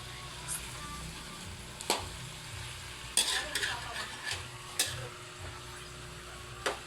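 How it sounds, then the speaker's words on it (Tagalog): Salmon head sautéing in a pan for sinigang, with a faint steady sizzle under scattered sharp clinks and scrapes of a utensil stirring against the pan, close by. "Gisahin mo natin guys para masarap."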